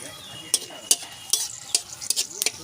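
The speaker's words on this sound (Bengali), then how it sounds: "ফোড়নে আমি এখানে তেজপাতা আর গোটা গরম মশলা" Bay leaves and whole garam masala spices hitting hot oil, giving a soft steady sizzle punctuated by repeated sharp stirring clinks of a utensil against the pan.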